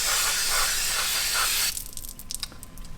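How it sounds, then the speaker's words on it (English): CRC Brakleen Pro with a PowerJet nozzle blasts a loud, close hissing spray onto a dirty brake caliper for about a second and a half, then stops, leaving soft dripping and rattling. "Brakleen Pro has the PowerJet nozzle, and it will blast the dirt right out of this nasty braking system here."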